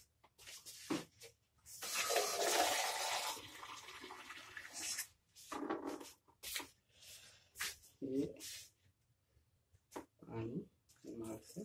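Water pours heavily into a potted snake plant, a sustained splashing burst followed by shorter gushes and trickles, with someone speaking between them.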